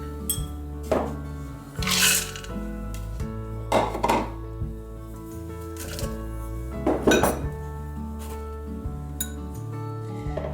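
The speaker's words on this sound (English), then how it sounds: "So I am going to now add my sausage, all of my veggies" Sausage and vegetables being added to a slow cooker, heard as close clinks and clatters of utensils against the pot at irregular intervals over a faint background hum.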